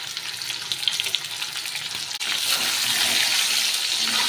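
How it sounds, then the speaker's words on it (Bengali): Potatoes frying in hot oil with salt and turmeric powder, a steady loud broadband sizzle that briefly drops out, then returns fuller and continues evenly with no talking. "আলুটা দিয়ে একটু লাল লাল করে ভেজে নেব"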